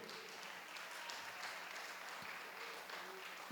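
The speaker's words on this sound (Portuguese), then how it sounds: "dê as fortes salvas de palmas ao Senhor" A church congregation claps together at a worship service after a call to praise the Lord, a steady, dense wash of hands lasting throughout, fairly quiet and distant.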